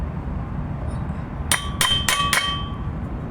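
Four sharp metallic hammer blows ring out in quick succession while a universal joint bearing is driven into the driveshaft of a Toyota Commuter van, each strike clanging clearly over a steady background hum.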